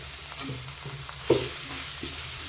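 Ground coconut and chili paste frying in oil in a pan, with faint steady sizzle and a few soft scraping stirs of a spoon, one sharper clink midway, close and quiet.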